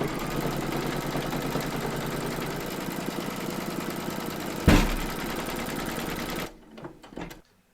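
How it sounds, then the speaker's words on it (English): A home embroidery machine stitches a round of a large Statue of Liberty applique design in the hoop, a steady rapid needle chatter at close range that runs for several seconds, then stops abruptly and leaves a few faint mechanical clicks. "Pop your hoop into your machine and stitch round number 4 to secure them"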